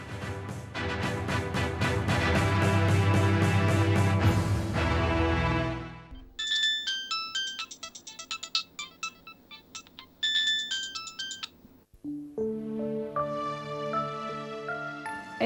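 A mobile phone ringtone for an incoming call plays loudly and alone, a dense electronic melody that shifts into bright repeating chime-like tones, then a lower tune to the end.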